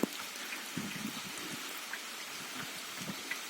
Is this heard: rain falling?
yes